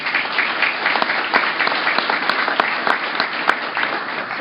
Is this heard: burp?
no